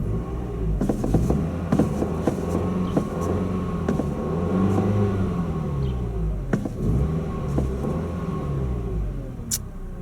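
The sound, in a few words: revving engine of a 2009 Ford Fusion SE, 4-cylinder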